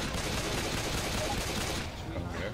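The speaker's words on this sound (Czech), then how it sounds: "Já tě ani neslyším přes tu střelbu." Dense, continuous gunfire fills Left 4 Dead 2 co-op action, a loud unbroken barrage of rapid shots that eases slightly near the end, with voices mixed underneath.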